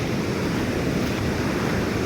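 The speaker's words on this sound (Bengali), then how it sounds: "বাপরে বড় ঝর্ণা লাগছে আওয়াজ তো শুনতে পাচ্ছেন" A large forest waterfall in the Jangalmahal area of Bankura, heard as a steady, dense roar of rushing water close by, constant and unbroken with no talking.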